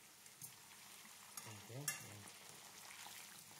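Potatoes for pommes sarladaises frying in a pan and being turned with a fork, a soft steady sizzle with a few scraping clinks and one sharper knock near the middle.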